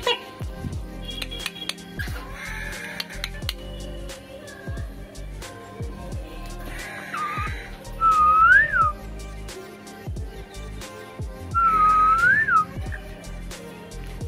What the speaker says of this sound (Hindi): कोशिश कर रहा है ये मेरी सीटी की जवाब देने के लिए, आवाजें निकाल रहा है।